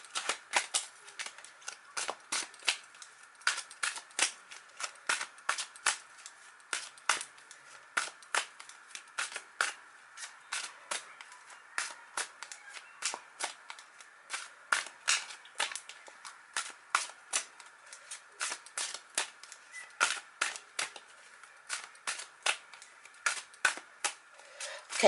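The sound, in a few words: shuffling tarot cards by hand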